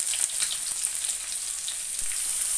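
Onions frying in hot oil with coconut and cooked beef for a Kerala-style beef fry, a loud steady sizzle with light crackles and an occasional stirring knock, heard up close and without talk.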